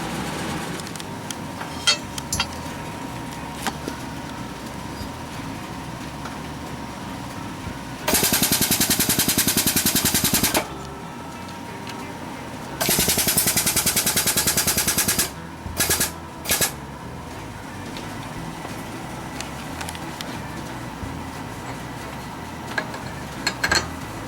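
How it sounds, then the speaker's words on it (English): A drill bores into metal in a shop, loud and close, in two long bursts of a few seconds each and then a couple of short stabs, with quieter clinks and ticks in between. "Fixing to do a little drilling on it."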